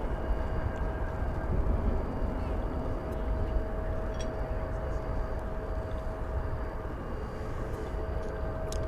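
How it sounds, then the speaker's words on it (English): A Boeing 787-9 that has just landed from Shanghai taxis at DFW airport, its engines giving a steady, distant, broadband roar with a faint whine, continuous and even throughout. "flight that just landed from Shanghai, China"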